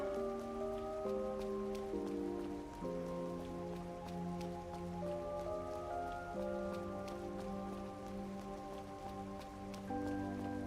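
Steady rain patters and hisses in the video game Trails Through Daybreak, a continuous even wash over soft sustained game music, with no talking.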